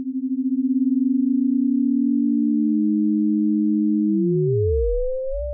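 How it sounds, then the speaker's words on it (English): Two sine tones from the frequency shifter in Arturia's Moog Modular V software synth start as one steady pitch, then split apart and glide in opposite directions, one rising and one sweeping down, clean and alone. "you're hearing two different sine waves in that tone there"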